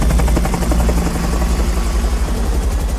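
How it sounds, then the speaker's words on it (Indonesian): A helicopter flies close overhead, its loud rotor beating in a steady, fast rhythm over a heavy low engine drone, with no one speaking. "mereka memutuskan untuk mencari Robin dan Queen menggunakan helikopter"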